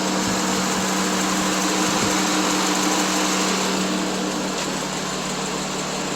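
High-speed radiator cooling fans on a 2009 Subaru Legacy roar steadily and loudly, a constant broadband whoosh with a faint hum beneath, running without pause and with no talking.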